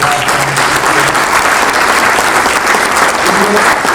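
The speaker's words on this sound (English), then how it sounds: "Let's give a round of applause." A room of attendees at a RE/MAX top producers event gives a loud, sustained round of applause, a thick wash of clapping throughout with a faint murmur of voices beneath.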